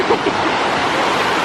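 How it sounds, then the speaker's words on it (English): Lake Michigan waves wash and splash up onto a lakefront road near Navy Pier in Chicago, a steady loud rush of surf mixed with wind noise, with no pauses. "the water, it's coming up, splashing onto the road"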